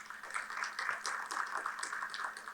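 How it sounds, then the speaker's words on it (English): A short burst of audience clapping at a seminar, moderately loud and continuous, with a faint murmur underneath. "Can we have another round of applause for her?"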